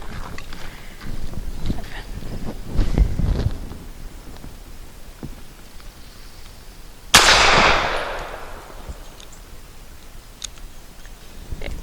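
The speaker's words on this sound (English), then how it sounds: "I too am going to be using the Nosler 115 grain match grade for my 5 shots at 7" A SAR USA B6C pistol fires Nosler 115 grain match ammunition at 7 yards on a range: one loud, sharp report with a ringing decay stands out, preceded by fainter knocks and handling noises.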